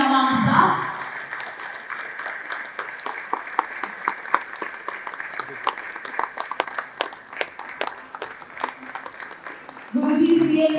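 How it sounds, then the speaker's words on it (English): Audience at a leadership event applauds to welcome a guest on stage, a sustained stretch of crisp individual claps at moderate volume, with someone speaking briefly at the start and end. "Please give a great round of applause for the Guruji amongst us."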